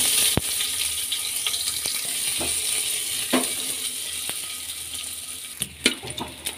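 Mustard seeds, curry leaves and onion splutter in hot oil, a steady hissing sizzle close by with scattered sharp pops and crackles, no talking.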